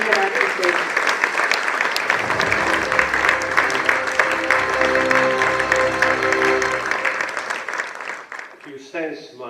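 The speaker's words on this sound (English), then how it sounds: "I would ask that you continue clapping" Audience applause at the 2025 Bikila Awards ceremony, dense sustained clapping from a large crowd close by, continuing steadily for several seconds under a speaker's amplified voice before tapering off at the end.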